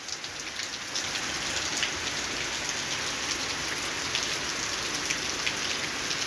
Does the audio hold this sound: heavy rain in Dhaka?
yes